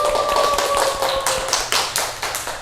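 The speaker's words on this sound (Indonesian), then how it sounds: "Tepuk tangan buat kalian semua." Students in a classroom clap together in a few quick, loud bursts of hand claps, close and rhythmic, with no talking over them.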